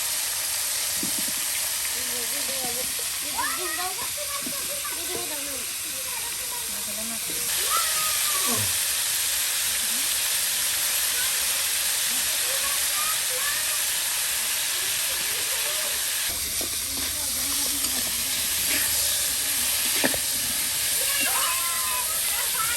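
Cauliflower florets fry in oil in a village kitchen in Bangladesh, a steady, loud sizzling hiss lasting throughout, with a voice speaking over it.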